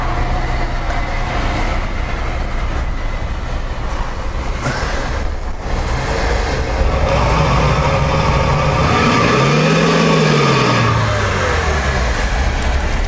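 A Renault Duster's engine drones loudly and steadily on test rollers with the centre differential locked, rising in pitch as it revs and then dropping back, with a heavy low rumble throughout.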